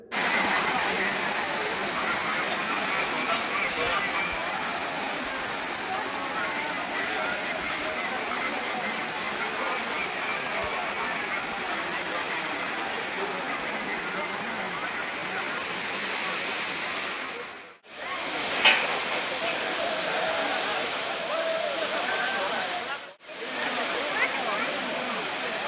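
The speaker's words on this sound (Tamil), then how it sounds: "இப்போ நம்ம அந்த அருவிக்கிட்ட வந்துட்டோம். இந்த குற்றால அருவியோட அழகை நீங்களே பாருங்கள்." Courtallam (Kutralam) waterfall in Tenkasi, a loud continuous rush of falling water that fills the whole clip, with two brief dropouts near the end.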